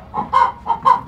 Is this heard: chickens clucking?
yes